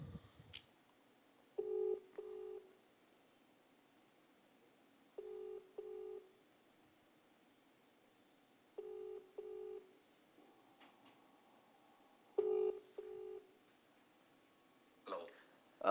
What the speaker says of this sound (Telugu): ఒక్కసారి ఆయనకి కాల్ చేద్దాం